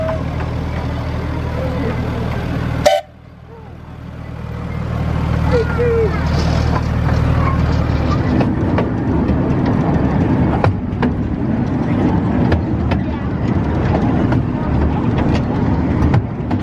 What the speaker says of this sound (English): we're going to have a nice ride on the train all around the lake here.